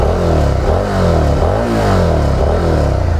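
Suzuki SV650 V-twin motorcycle on its stock exhaust, revving loudly and close by, the engine note rising and falling across a few short throttle blips with no talk over it.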